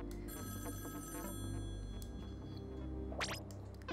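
A telephone ringing in the Splatoon 2 Octo Expansion video game, a faint repeating electronic ring in steady bursts over a low game hum, with no one talking.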